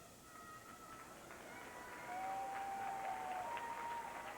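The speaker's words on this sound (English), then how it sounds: "So encouraging applause from the crowd" Encouraging applause from a figure skating arena crowd at a men's free skate: a faint, steady, distant patter of many hands clapping that swells slightly midway, with a few whistles rising above it.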